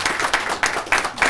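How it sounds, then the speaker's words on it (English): Audience applause at an undergraduate social research conference: a brief burst of clapping from a small crowd in a room. "Marietta, I insist that you stand up and take some applause"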